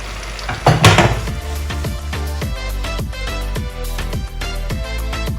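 Kpomo (cow skin) pieces are added to a pot of spicy pepper stew and stirred in, giving loud, rhythmic scraping and knocking of a spoon against the pot over a steady sizzle.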